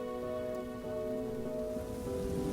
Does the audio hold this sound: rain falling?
yes